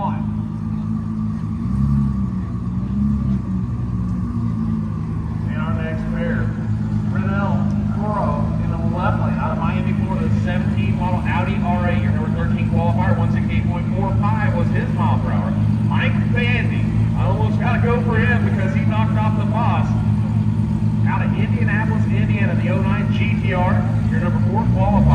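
Roll racing cars roar past at high speed on a track, engines building and fading in repeated loud passes, while a public-address announcer talks over the steady rumble throughout.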